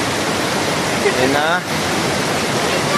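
Rushing river water roars loudly and steadily at a crossing on the hiking trail to Ditumabo Mother Falls in San Luis, Aurora, with a short spoken phrase briefly heard over the torrent.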